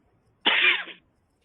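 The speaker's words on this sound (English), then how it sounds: "I just said I wasn't coughing, then I coughed." One short, harsh cough close to the microphone, alone in an otherwise quiet room.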